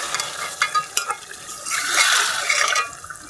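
Koi fish and potato chunks fry in a pan while being stirred gently, with a few soft scraping knocks followed by a swelling close sizzle of hot oil, and no voices.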